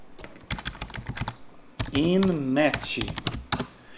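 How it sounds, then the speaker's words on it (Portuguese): Someone types INMET into a Google search on a computer keyboard, sending out quick, close clicking keystrokes in short bursts while a voice talks over part of the typing. "se eu for lá no Google e digitar INMET"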